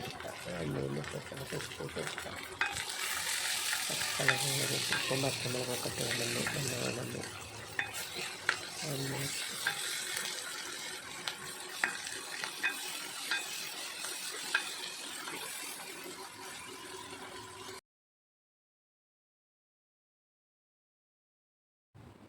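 Shallots, onion and fenugreek fry with salt in hot coconut oil in a pan for a mackerel curry, making a continuous close sizzle and stirring scrape under a talking voice, then the sound cuts to silence.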